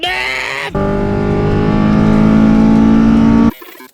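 A car engine revs hard through its exhaust and holds a loud, steady roar with rising harmonics, then cuts off abruptly into a quieter rumble.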